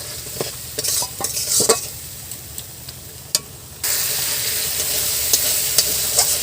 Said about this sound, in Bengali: এবার দিয়ে দেবো সামান্য জল। জল দিলে মশলাটা ভালোভাবে কষা হবে।